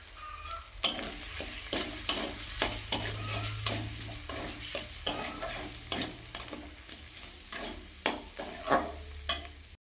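Spices frying in a pan with chili powder, turmeric and salt, stirred repeatedly so a spoon scrapes in regular strokes over a continuous sizzle, close and alone without talk.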